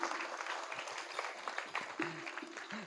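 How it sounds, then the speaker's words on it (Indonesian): Audience at an Islamic boarding school parenting talk show clapping for two questioners, a moderate, fairly quiet patter of hands with a few sharper claps standing out and some faint voices mixed in. "Boleh tepuk tangan buat dua penanya hari ini."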